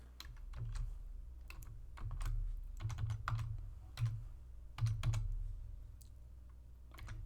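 Someone types a password on a computer keyboard: quick bursts of close, crisp key clicks in an uneven rhythm with short pauses between groups. No one speaks.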